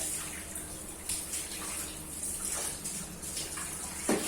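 Running water from a tap splashes over an umbrella being washed, a soft continuous hiss with faint irregular splatters and a slightly louder splash near the end.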